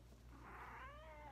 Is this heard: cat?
yes